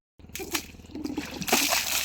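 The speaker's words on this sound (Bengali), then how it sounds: "বেশি বেশি করে পানি মারবো?" Water splashes and sloshes while someone is being bathed, in several irregular bursts that grow busier toward the end, fairly close, with a faint voice underneath.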